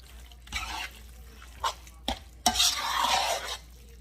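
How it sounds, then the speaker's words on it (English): Ingredients for smoked salmon baked mac and cheese are stirred together in a bowl, giving several close scraping, squelching bursts of mixing separated by brief pauses, with a longer, louder stretch of stirring near the end. "And we're gonna mix it."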